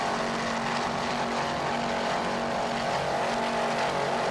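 Offshore racing powerboats at the 1995 Jacksonville Offshore Grand Prix in Florida, a continuous loud engine roar with a droning tone, sustained and steady without a break.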